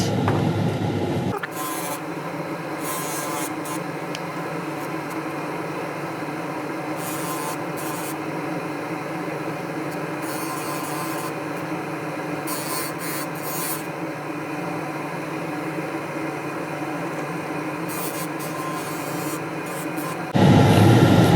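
A dental lathe polishes an acrylic orthodontic retainer plate with pumice, a steady whirring rub that holds continuously for about twenty seconds, with louder motor noise at the start and end.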